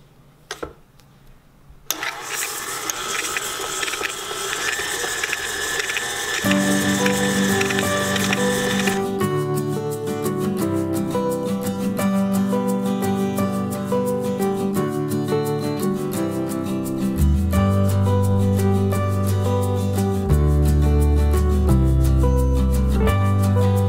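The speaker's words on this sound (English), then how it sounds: "we're going to cream the butter and sugar together" Electric mixer creaming butter and sugar for Nutella-centre chocolate chip cookies, a steady loud whirring motor that shifts pitch partway through and runs continuously for about twenty seconds with no talk.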